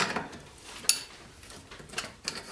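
A crank puller turns on a used mountain bike to pull off the crank, giving faint, irregular metallic ticks and clicks with a couple of sharper snaps, close by and quiet, with no voices.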